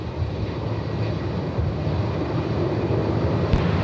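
A Boeing 747 operated by Atlas Air at Melbourne Airport gives off a steady, loud, low jet roar that holds for the whole stretch, with wind rumble underneath.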